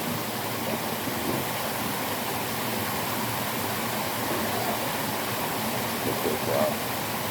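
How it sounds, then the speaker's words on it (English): Pieces of asphalt rinsed by hand in stream water outdoors, a steady broadband rush of flowing water filling the whole stretch, loud and close with no clear breaks. "rinse off the dirt like that"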